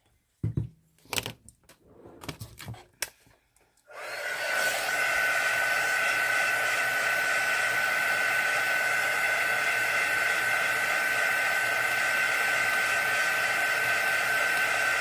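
A hair dryer drying the first coat of paint on a craft piece runs as a loud, steady whir that starts after a few seconds of clattering handling noise and holds without a break to the end.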